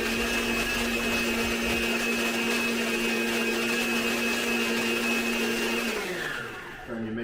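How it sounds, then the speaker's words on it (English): An electric mixer beats an egg into cream puff dough with a loud, steady motor whine and churning that runs for several seconds, then winds down as it is switched off, with no voices. "Turn your mixer off and repeat."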